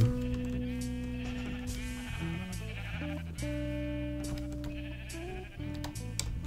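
Sheep bleating in the Minecraft video game, a series of close, loud wavering bleats overlapping one after another, with a low steady hum underneath.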